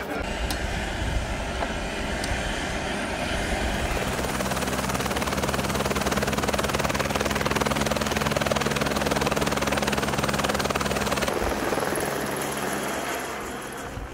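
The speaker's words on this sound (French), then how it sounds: "il est temps d'embarquer pour un baptême d'hélicoptère" A helicopter's steady, loud rotor thrum and turbine whine fill the whole stretch during a first-time passenger flight in the mountains at Châtel, continuous and close, easing slightly near the end.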